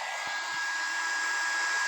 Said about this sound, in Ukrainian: Ну хай собі фен дує